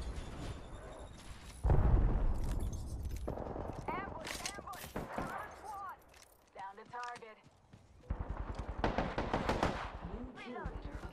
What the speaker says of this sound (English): Whole another team shooting at them.